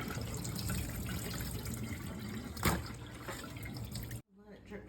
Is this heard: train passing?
no